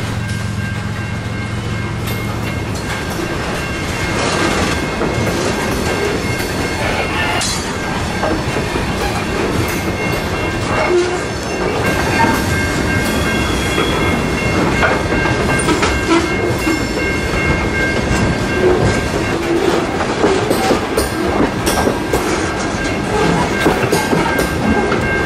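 A long CSX freight train in Central Florida rumbles past steadily, wheels clacking and steel grinding at a constant loud level, with faint tonal squeals riding over the roar.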